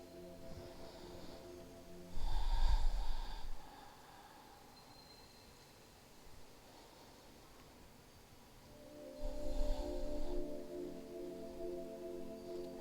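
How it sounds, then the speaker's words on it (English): Deep breathing during a yoga class for open hips: two slow, loud breaths several seconds apart, each a breathy rush, over a soft background drone. "We'll take 2 more deep breaths here."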